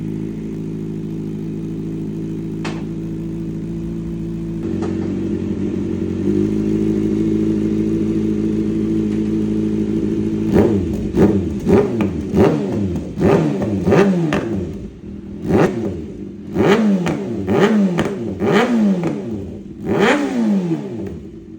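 A 2024 Kawasaki ZX6R with an M4 GP19 full-system exhaust idles with a deep, bassy rumble, then is blipped through a rapid series of loud, sharp revs that rise and fall, up close with no talking.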